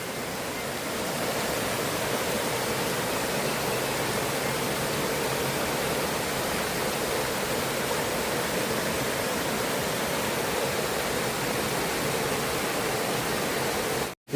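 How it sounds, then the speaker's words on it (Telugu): A waterfall in Meghalaya pours nonstop, a dense, even roar of rushing water heard steadily throughout with no voices. "వాటర్ అనేవి ఎలా ఫ్లో అవుతున్నాయో చూడొచ్చు."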